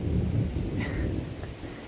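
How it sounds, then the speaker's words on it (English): Low rumbling thunder rolls through a stormy outdoor setting on a hiking trail in Israel, a steady deep roar with faint higher noise above it and no voices. "Definitely thunder, and I just saw some lightning"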